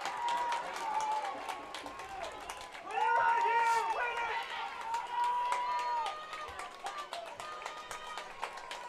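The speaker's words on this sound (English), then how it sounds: "Stigler crowd getting into it a little bit" Home crowd cheering at a Stigler high school football game against Muldrow, a broad steady roar with a louder swell in the middle, mixed with a commentator talking over it.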